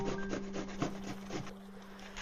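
Fresh ginger being grated, heard as a quick series of close, rhythmic scraping rasps that stop partway through, over a steady low hum.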